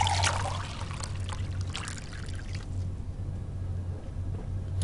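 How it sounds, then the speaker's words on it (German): A water dispenser pours water in the video game Fahrenheit, a steady splashing stream that starts loud and close, then continues as a softer trickle over a low background hum, with no talking. "Wasserspender? Oh, da können wir uns auch sogar was holen."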